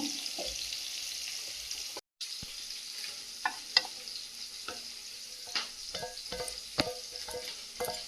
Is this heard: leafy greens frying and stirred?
yes